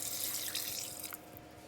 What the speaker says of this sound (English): right away after pouring in the water